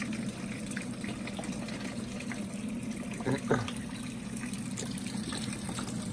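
Water runs steadily from a shower fed by a propane tankless water heater, a soft, even hiss and trickle that holds constant, with a brief louder splash partway through.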